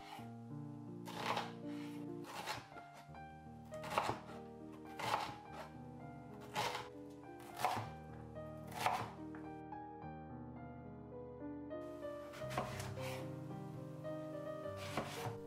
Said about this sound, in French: il faut tout couper en petits morceaux.